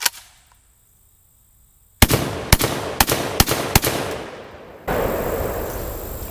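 Rapid bursts of shotgun fire from a JTS M12AK on light loads: five sharp, loud blasts in quick succession with ringing decay, after a quiet stretch, followed by a sustained noisy tail.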